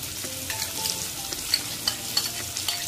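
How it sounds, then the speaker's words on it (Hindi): Onion with crushed ginger, green chili and garlic frying in a pan over medium heat, a steady close sizzle with a few sharp pops and light stirring scrapes throughout, no talking. "मीडियम आंच पर इसे हल्का सा ब्राउन होने तक भूनते हैं।"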